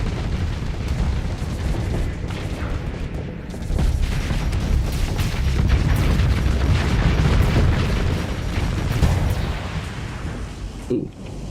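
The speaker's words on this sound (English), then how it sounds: "got caught by that explosion" Explosions in the space combat game Starsector come as dense, roaring bursts of noise with booming low rumble, swelling through the middle and easing off near the end.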